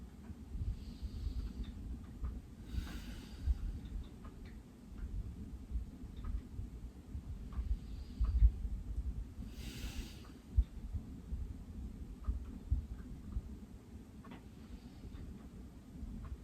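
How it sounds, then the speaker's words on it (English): Someone breathes in and out slowly during a yoga session for a tired low back, with soft, close breaths at an unhurried pace and two louder airy exhales standing out against a quiet room. "breathing in and out naturally, and then counting to 2 at the end of the exhale"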